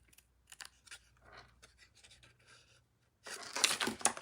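Scissors snipping through a paper greeting card, a few scattered short cuts followed by a louder, denser burst of close crisp cutting near the end.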